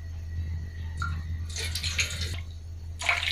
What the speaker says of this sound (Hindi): ये आपको पानी डालेंगे